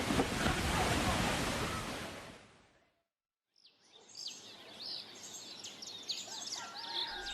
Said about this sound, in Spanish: las enormes olas siguieron arrasando todo el litoral